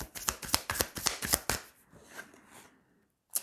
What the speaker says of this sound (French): Allez, on va tirer 3 cartes.